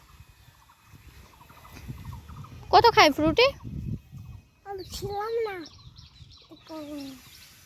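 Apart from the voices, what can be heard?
chickens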